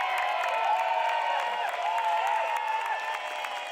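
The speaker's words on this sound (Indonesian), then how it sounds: "Tepuk tangan untuk DJ Wisnu." Theater audience cheering and whooping for a DJ on stage, a steady crowd roar with overlapping shouts and light clapping, continuous and fairly loud throughout.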